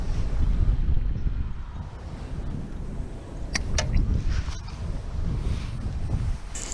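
Wind gusting on a fishing boat out on the water in Australia, a constant loud rumble buffeting the microphone with faint splashes and small clicks mixed in.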